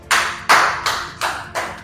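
Five sharp claps ring out, evenly spaced and fairly close, each with a brief decay into a quiet room during a motivational talk.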